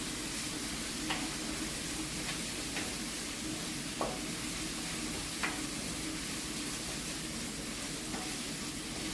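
Curry leaves sizzle in hot oil while stir-frying for a spicy chicken curry, a steady close frying hiss with a few faint clinks and scrapes scattered through it, no talk.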